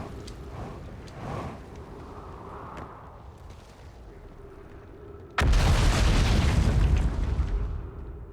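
An explosion in the video game Outer Wilds erupts suddenly after a quieter stretch of ambient rumble, becoming a loud, sustained booming roar up close that lingers and slowly tapers off.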